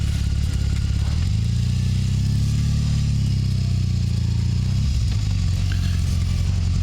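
A BMW R18 motorcycle engine runs steadily, a loud low drone that rises slightly in pitch then drops as it shifts, continuous throughout.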